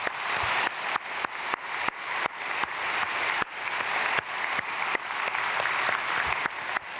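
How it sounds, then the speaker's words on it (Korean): A church congregation at an early-morning prayer service claps in a steady, unified rhythm, each clap sharp and evenly spaced, heard at moderate loudness throughout. "박수하겠습니다."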